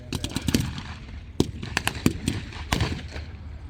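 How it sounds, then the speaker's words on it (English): Bursts of heavy machine gun fire at a WWII tank battle re-enactment, with a German half-track position mounting an MG-type heavy machine gun, heard as sharp loud cracks in short clusters and single shots echoing across open ground, with no speech. "Mounting heavy machine gun MG32, MG30."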